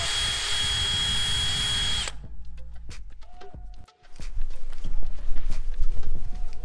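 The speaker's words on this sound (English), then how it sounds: "I forgot I bought this wire brush for my drill, and I have a 2-speed drill, so this will work really well" A two-speed power drill spinning a wire brush attachment, a steady loud whirring drone for about two seconds, then a pause with light clicks and taps before the brush spins up again and grinds on.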